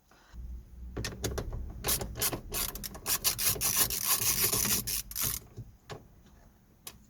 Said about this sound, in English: we're gonna be using a 8mm socket to remove these 3 small bolts